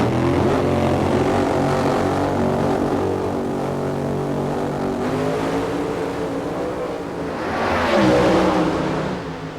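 NHRA sportsman drag racing cars at the 1995 Winston Select Sportsman Finals in Pomona accelerate down the quarter mile, a loud, steady engine roar with shifting pitch that swells again near the end, no talk over it.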